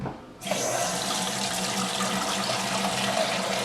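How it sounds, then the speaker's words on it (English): Tap water gushes steadily into a pot on a kitchen stove, starting abruptly and running as a loud, continuous splashing rush. "So I'm going to put some water in here."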